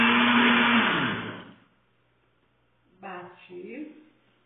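A blender whirs loudly while blending an unsweetened açaí smoothie, then winds down and stops after about a second and a half. A voice speaks afterward.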